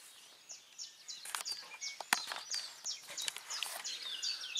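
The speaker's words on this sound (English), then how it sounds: "Birds are in full voice anyway." Small birds sing and chirp in quick, bright phrases beside a Yorkshire river, several calls overlapping at moderate distance with no talk.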